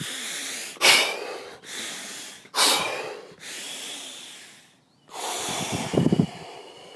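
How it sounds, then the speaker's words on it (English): Deep breaths taken one after another, several long airy inhales and exhales with short pauses between, close and fairly loud with no talking. "I take 5 deep breaths."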